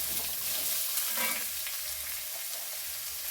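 Chopped onion sautéing in a pan for an idli dish, a steady close sizzle with soft stirring scrapes throughout and no talking.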